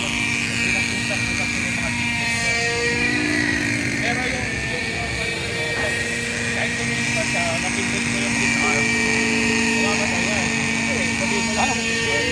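An M2 remote-controlled helicopter flies over a grassy field, its rotor and motor giving a steady, loud whine and drone throughout while people talk close by.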